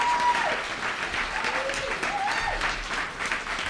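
Audience applause at a short-talk conference session, steady clapping throughout with a few brief tonal sounds over it.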